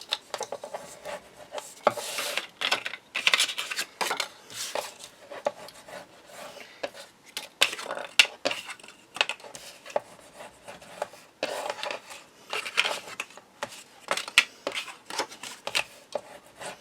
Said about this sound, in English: I'm just going to burnish those score lines down just to give them